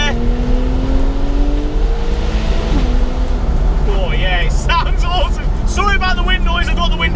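Porsche 993 engine heard from inside while driving with the windows down, a steady loud drone with rising and falling revs, wind and road noise around it and bright chirpy squeaks near the end.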